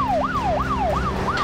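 A police siren from a TV drama wails in steady, rising-and-falling sweeps, loud and close, repeating about four cycles with no talk over it.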